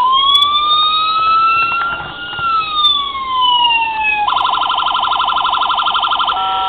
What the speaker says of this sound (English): And of course your siren.